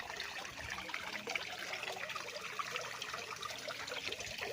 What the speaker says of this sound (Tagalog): Yan, para silang may ginawang fountain. Yan, tuloy-tuloy po ang agos nito.